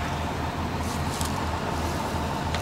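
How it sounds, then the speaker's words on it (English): A car on the road, a steady dense rumble of engine and tire noise that stays loud and constant throughout, with no talking. "You hear that car, dude?"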